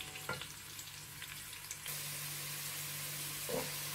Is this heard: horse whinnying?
no